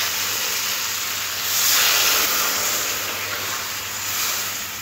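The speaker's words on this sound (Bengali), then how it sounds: "আর একটু জল দেবো, তাহলে সবজিটা একটু সিদ্ধ হবে।" Water poured into a pan of simmering Bengali fish curry (bata fish with vegetables) sets off a broad steady hiss and sizzle, swelling briefly then easing, with no talk.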